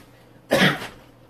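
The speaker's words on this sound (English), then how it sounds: "You sneezed in my face" One sharp, loud sneeze bursts out close by, a brief explosive blast that fades quickly into near silence.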